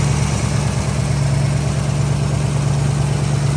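A 1971 Ford Mustang 302 V8 coupe with an automatic and aftermarket headers idles steadily and close, a continuous low, even rumble with a faint lope and no gaps or voices.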